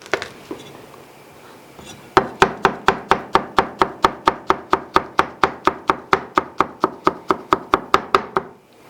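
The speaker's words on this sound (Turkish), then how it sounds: "Sarımsağı da çok az bir şey dövüp doğrayacağız." A knife chops garlic on a cutting board in a fast, even run of about twenty crisp chops, close up and loud, after a few quieter taps.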